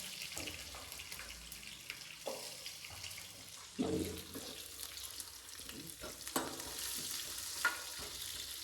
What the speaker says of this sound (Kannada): ಇದು ಬ್ರೌನ್ ಕಲರ್ ಬರೋವರೆಗೂ ಈರುಳ್ಳಿ ಬೇಯಿಸ್ಕೊಳ್ಳಿ, ಓಕೆನಾ?